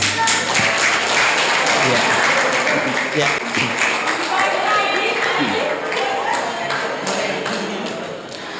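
Applause fills a crowded hall at a school Maulid Nabi celebration, dense clapping running steadily throughout and easing slightly toward the end, with a voice speaking briefly over it.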